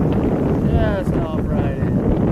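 Strong, gusty headwind buffets the microphone at a long-range rifle range with targets at 1,022 yards, a loud steady roar of rushing air while a voice speaks under it.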